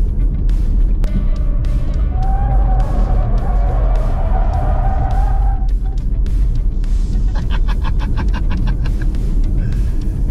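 A Ford Mustang Mach-E First Edition electric crossover accelerates: a rising electric whine climbs over steady, loud road and cabin rumble, then fades into a rapid series of light ticking pulses near the end.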